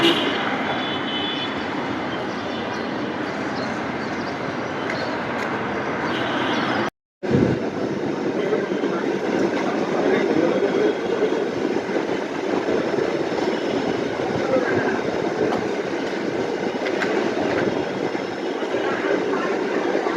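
A metro train runs at a metro station, making a steady, loud rumble that fills the whole stretch. The sound drops out for a moment partway through, then resumes just as dense.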